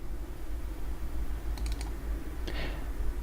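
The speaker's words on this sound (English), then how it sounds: "To do that, we'll double click this transistor" Mouse clicks on a computer while placing a transistor component in circuit design software: a quick cluster of sharp clicks, then a second brief click burst, close and clear over a steady low background hum.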